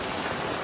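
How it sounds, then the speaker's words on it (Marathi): Steady, dense rain pours down in a village, a continuous hiss with no pauses and no voices. "पाऊस किती पडतोय"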